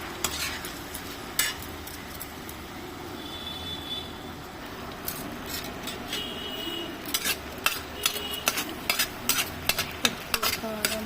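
Cleaned mushrooms fry in hot oil while being stirred, a steady sizzle with irregular scraping and clattering of a utensil against the pan that grows busier toward the end, close and with no voices.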